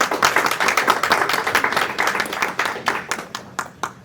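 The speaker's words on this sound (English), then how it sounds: "give a big round of applause to all the parents and participants who are on the stage" Applause from a small audience for parents and participants on stage at a school declamation contest, dense clapping that thins into scattered individual claps near the end.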